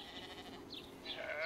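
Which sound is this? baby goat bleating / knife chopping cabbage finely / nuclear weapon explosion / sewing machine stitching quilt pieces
baby goat bleating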